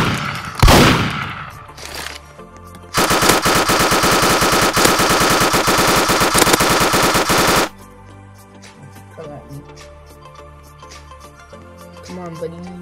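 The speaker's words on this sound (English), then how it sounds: "Wait, I have so many bullets exploding." Rapid automatic gunfire and popping bullet impacts in a Roblox shooter game, a loud sustained burst in the middle with scattered shots before and after and a voice talking briefly early on.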